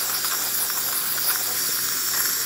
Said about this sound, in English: Nice steady steam coming out of the machine,